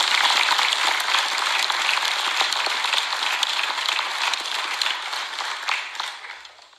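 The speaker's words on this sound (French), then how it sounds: "je pense que vous pouvez l'applaudir" Audience applause at a New Year's greetings ceremony in Dol-de-Bretagne, a dense, steady clapping from a full hall that holds for several seconds before tapering off at the end.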